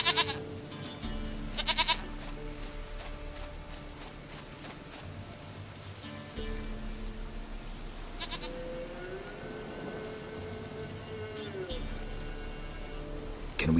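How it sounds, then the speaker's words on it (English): A goat bleats in the rainy outdoors of The Witcher 3: Wild Hunt, a few wavering calls rising over steady rain and game background sounds. "Goat of mine, dearest,"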